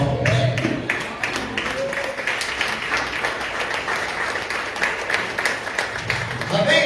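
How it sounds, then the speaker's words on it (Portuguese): A church congregation standing and applauding during a sermon, sustained dense clapping from a crowd filling the room, steady and fairly loud, with voices talking over it. "Fica de pé e dá uma salva de palmas."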